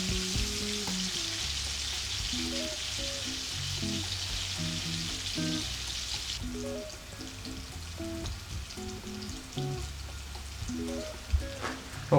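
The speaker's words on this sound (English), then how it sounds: "Just waiting for the garlic to brown slightly before we add it" Garlic browning in a pan for a red split lentil masoor dal gives a soft, continuous sizzle and hiss, heard close but fairly quietly, with steady tonal music playing underneath throughout.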